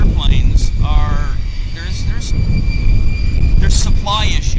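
Air Canada Airbus A220 jet at Vancouver airport, a steady loud engine roar throughout, with a voice talking over it and brief whistling chirps.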